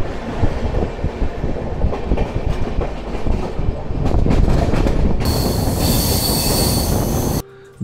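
The Sealdah–New Delhi Rajdhani Express rolls along the rails with loud, close rumbling and rhythmic clatter, then a harsh, sustained high squeal of wheels grinding before the sound cuts off near the end.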